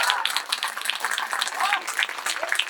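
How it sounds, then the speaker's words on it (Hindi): Audience applause at a Ganesh festival comedy poetry show, a steady patter of clapping with scattered shouts and cheers mixed in. "एक बार जोर से बजाए जाओ ताली"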